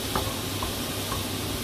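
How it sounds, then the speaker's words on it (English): Mushrooms sautéing in a hot pan, a steady, even sizzle with a couple of faint utensil taps. "Now that that's coming up to a heat, saute the mushrooms."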